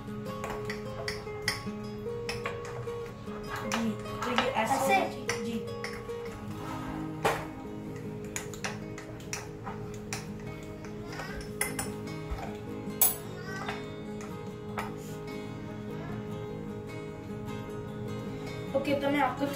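Mug cake batter stirred inside a mug, with a spoon clinking against the sides in a steady, close run of small taps and scrapes. A child and an adult talk over the stirring throughout.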